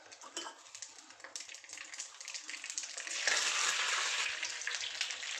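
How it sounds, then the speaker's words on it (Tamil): Mustard seeds and curry leaves fry in hot oil for a Namakkal-style tomato masala thokku, starting as a light crackle and swelling into a loud, dense sizzle about halfway through. "கடுகு நல்லா பொரிஞ்சு வந்தோடனே கருவேப்பிலையை போட்டுடலாங்க"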